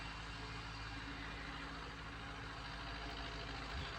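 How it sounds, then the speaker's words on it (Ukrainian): A tractor engine drones steadily while ploughing a field, a low continuous rumble with a faint tonal hum, heard alone at moderate level without speech. "Такий у нас трактор, що ми не можемо рати як хочемо, а як виходить."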